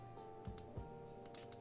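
A computer keyboard being typed on at a home desk, giving a few sparse, soft clicks and taps over a low steady hum, close by and fairly quiet.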